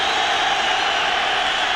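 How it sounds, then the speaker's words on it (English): A football stadium crowd roars steadily during a 1997 Bengals at Giants game, a dense continuous wash of cheering filling the space with no breaks, loud and distant. "Crowd trying to fire up the defense."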